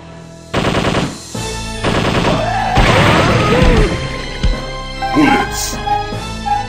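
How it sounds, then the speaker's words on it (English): Rapid machine gun bursts in the Dreamcast zombie shooter Zombie Revenge, loud and close, several sustained volleys with brief pauses and game effects in between. "Machine gun."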